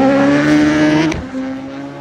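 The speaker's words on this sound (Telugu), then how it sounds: "క్విక్ షిఫ్టర్ తో గేర్ షిఫ్ట్ చేసిన ప్రతిసారి ఒక సౌండ్ అయితే వస్తుంది" A BMW S1000RR motorcycle fitted with a full Akrapovic exhaust roars steadily at high revs, then a quickshifter gear change cuts in with a sharp crack and the engine note drops before pulling on, loud and close.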